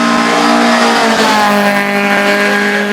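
A Lotus hillclimb race car with a big valve head engine and phase 4 cams revs hard and close at a British speed hillclimb event, a loud, sustained engine note rising in pitch as it accelerates.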